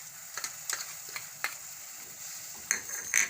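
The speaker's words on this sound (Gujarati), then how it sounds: "આ મરચું છે એ નાખી દેવું, અને ડુંગળી નાખી દેવું, આ લસણ નાખી દેવું, અને આદું છે એ નાખી દેવું આપણે આમાં" Chili, onion, garlic and ginger frying in oil in a pan while making tomato sauce, a soft, steady sizzle close by, broken by sharp clinks of a spoon stirring against the pan.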